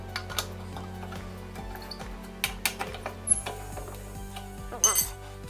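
A tire iron works the lug nuts on a flat tire with a series of close metallic ratcheting clicks and clinks in uneven bursts.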